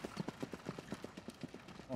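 Hooves of the trotting racehorse Moni Viking beat a quick, steady rhythm of close, crisp clip-clops, evenly spaced and continuing throughout at moderate volume.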